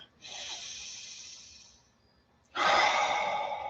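Two deep, airy breaths during guided meditation: a long drawn inhale that fades out, a brief pause, then a louder, fuller rush of breath, very close to the microphone.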